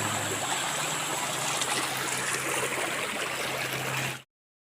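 Continuous rushing water of a flowing river in Naic, a broad steady wash that stops abruptly just before the end.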